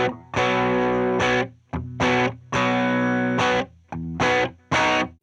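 New Fender American Vintage II Telecaster Deluxe electric guitar played with heavy distortion, loud sustained chords in repeated bursts with short gaps between them, close and alone with no talking.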